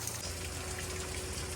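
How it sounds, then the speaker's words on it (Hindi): Mountain stream water flowing down from the hillside, a steady close rushing wash that fills the whole moment without a break, with no voices over it. "ऊपर पहाड़ से ये पानी आ रहा है"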